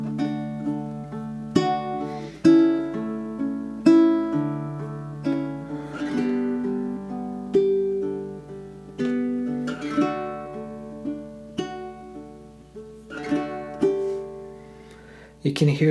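Fingerstyle baritone ukulele melody with plucked notes over sustained bass, tempo gradually slowing in a relaxed ritardando; steady moderate volume, no voice.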